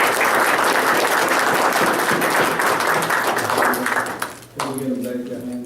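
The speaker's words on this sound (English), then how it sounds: "A round of applause for Andrew." A city council meeting crowd applauds Andrew with dense, loud clapping that fills the room, then fades into a voice speaking over the last scattered claps.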